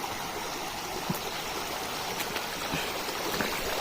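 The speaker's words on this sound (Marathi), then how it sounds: "तुम्ही बघू शकता ही छोटीशी अशी ओढा आहे" A small stream flows steadily on a fort trek near Pingalsai village, a continuous close watery rush with faint splashes and no talk.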